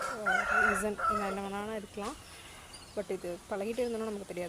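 A rooster crows loudly and nearby among chickens roaming outdoors, a long drawn-out call followed by further clucking and crowing phrases, heard under a person talking.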